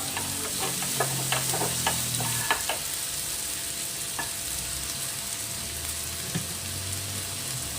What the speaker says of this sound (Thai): แล้วก็ลงกระเทียมสับครับ รวมถึงพริกไทยอ่อนครับนี่นะครับ ผัดให้หอมนะครับ